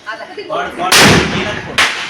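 Two sharp, loud Diwali firecracker blasts go off close by, the second about a second after the first, with voices heard just before.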